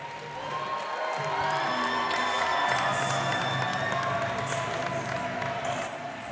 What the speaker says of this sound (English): let's hear a round of applause for both of these fighters